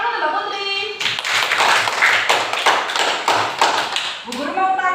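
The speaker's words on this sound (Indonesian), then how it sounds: "tepuk tangan untuk Mbak Putri." Classmates in a classroom clap for a student after a bicycle-riding demonstration, giving a brisk burst of close, crisp hand claps lasting a few seconds, with a voice speaking just before and right after.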